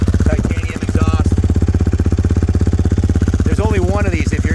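A 2023 GasGas MC450 Factory Edition motorcycle with an Akrapovic titanium exhaust idles loudly and close in a rapid even thump, while people talk over it.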